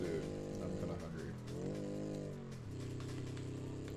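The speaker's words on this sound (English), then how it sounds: "It keeps over-revving, which kind of sucks." A simulated car engine in the BeamNG driving game over-revs, holding a strained, buzzing high-rpm drone that swells, dips and surges again at a moderate level.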